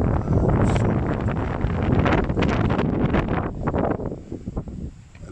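Strong wind buffets the microphone in a steady, roaring rumble for several seconds, easing and gusting slightly toward the end.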